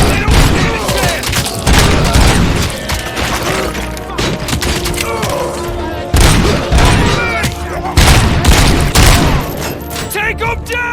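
Heavy gunfire erupts in a Robocop: Rogue City firefight, loud dense bursts and booming shots rattling almost continuously, with shouted voices mixed in between volleys.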